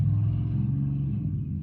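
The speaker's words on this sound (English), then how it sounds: "Again, a lot of loud trucks, and I'm pretty sure that was the same one." Loud truck passing by outside, a steady low engine rumble that holds close and heavy before easing off slightly toward the end, with no voices over it.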